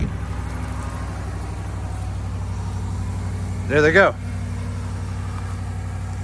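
A 2021 Ram 1500 pickup idles with a steady low engine drone throughout, a voice speaking briefly over it partway through.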